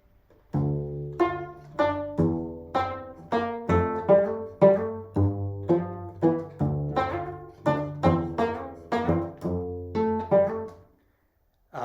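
A cello plucked with both hands, interweaving lines of separate notes in a steady pulse, each pluck ringing briefly before the next, ending in silence.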